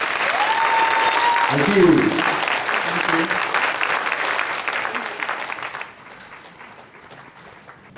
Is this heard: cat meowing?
no